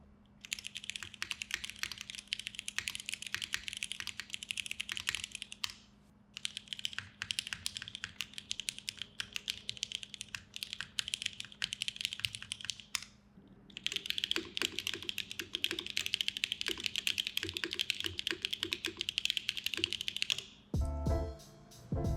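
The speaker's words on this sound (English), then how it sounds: "Here's a typing test of my 3 configurations" Rapid clacking keystrokes from custom mechanical keyboards with chosen switches and X-ray and Modern Materials keycaps, close and crisp, in three separate runs split by brief pauses, with a few heavier thocks at the very end.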